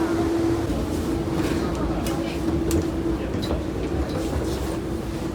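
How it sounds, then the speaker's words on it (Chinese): Steady rumble and rattle of a double-decker train to Batumi, Georgia, heard from the upper deck inside a carriage, with a faint whine running throughout and no clear talk. "车还挺新的，这样的双层列车。"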